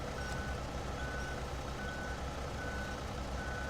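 A truck's reversing alarm repeats a steady, evenly spaced beep. It sounds fairly distant and faint over a constant engine rumble.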